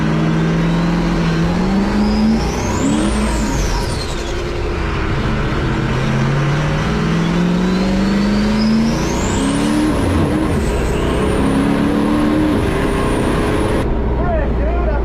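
A drag racing car launches and smokes its tires, its engine howling loud and close and climbing steeply in pitch through several gear shifts over about fourteen seconds before cutting off.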